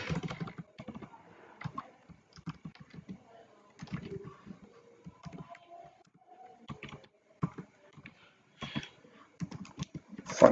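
Close keystrokes on a computer keyboard as code is typed, in irregular bursts of rapid clicks with short pauses between them. A faint, brief voice is heard once or twice.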